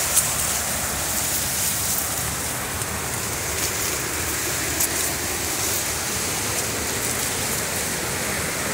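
A creek swollen after heavy rain rushes steadily, a dense, loud, unbroken roar of flowing water close by with no voices.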